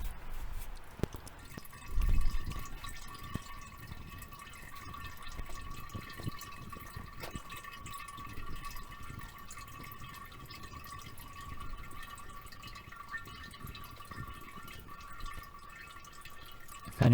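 Differential fluid drains from a car into a jar, a faint, steady trickle and drip that runs on for a long stretch against a quiet background, with a slight bump near the start.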